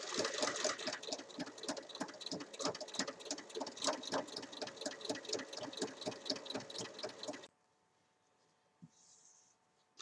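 Sewing machine stitching along the zipper of a fabric pouch with lining, a steady rapid mechanical chatter up close for several seconds, then stopping into near silence with a faint small click.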